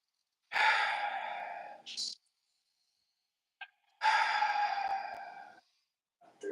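Two long, deep breaths during a martial arts dojo breathing exercise, each a loud drawn-out exhale followed by a short sharp intake, with a few seconds of silence between them.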